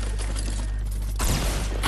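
Burst of gunfire in the Fortnite Battle Royale video game, several close rapid shots cutting in over a steady background hum partway through, with a second sharp crack at the end.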